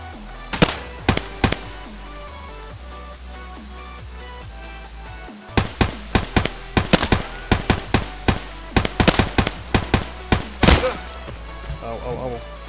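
Gunfire in the shooter game Escape From Tarkov: a few sharp, loud single shots ring out, then a quiet stretch, then dense rapid clusters of cracking reports in uneven bursts.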